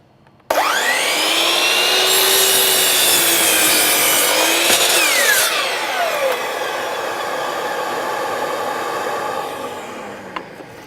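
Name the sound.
slide compound mitre saw cutting timber at an angle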